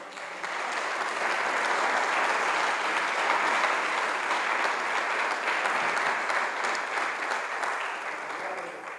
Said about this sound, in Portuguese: Pode aplaudir a Ele por isso.